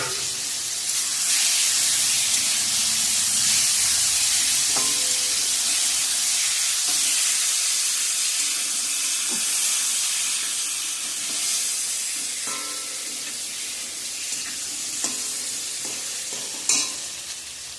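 Mangoes tossed into hot oil with five-spice for mango chutney sizzle loudly and continuously, with occasional stirring clatters from the pan and a brief sharp knock near the end.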